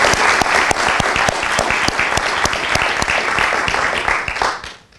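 An audience at a St. Francis College student recognition day ceremony breaks into a full round of applause, dense steady clapping from many hands that holds for several seconds before tapering off at the end.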